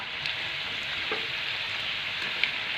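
Modak frying in oil over a medium gas flame gives a steady, even sizzle with soft crackles, close and alone with no voices.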